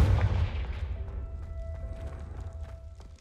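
A Confringo fire spell in the Hogwarts Legacy video game goes off as a heavy, loud blast, then decays into a long rumbling tail with faint crackles.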